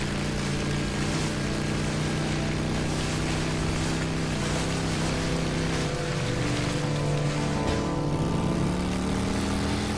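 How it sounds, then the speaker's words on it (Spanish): Motorcycle riding in the video game Days Gone, a steady loud engine drone with shifting harmonic tones as the bike accelerates and turns, continuous throughout with a rough, wind-like hiss layered on top. "Es mala de conducir la moto"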